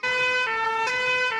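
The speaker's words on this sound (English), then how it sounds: "This is the sound the fire engine makes." A cartoon fire engine siren wails loudly and steadily, a bright electronic two-tone effect that shifts pitch twice within a short burst, with no voices over it.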